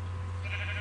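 A sheep bleats once in Minecraft, a short synthetic farm-animal call over a steady low hum, fairly quiet and with no talking.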